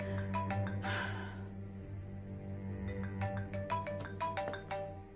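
Mobile phone ringtone for an incoming call, a repeating melodic electronic tune of short bright notes, with a brief burst of noise early on and a pause before the pattern returns, clear and close.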